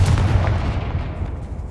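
Confringo fire spell in Hogwarts Legacy bursts with a single loud, close explosive boom, then a rumbling tail that quickly decays.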